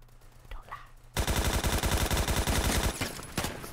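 Rapid automatic MP5K fire in a LEGO Call of Duty-style shooter game, a loud sustained burst of evenly spaced shots after a quiet start, with a brief gap and another short burst near the end.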